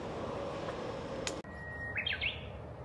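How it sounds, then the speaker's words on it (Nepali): Birds chirp and tweet in the open air at a hydrangea-viewing spot. A few bright, quick calls come near the end over a steady background hum, with no talking. "कस्तो राम्रो चरा सुन्न पाइन्छ कि यहाँ"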